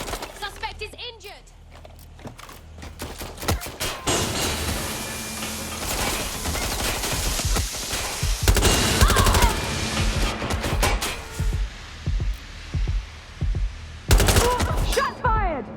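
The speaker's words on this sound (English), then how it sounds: "Shots fired!" Rapid bursts of gunfire in the Watch Dogs Legion video game, sharp repeated shots and automatic fire crackling through most of the span with brief pauses, loud and close, with voices calling out over the shooting.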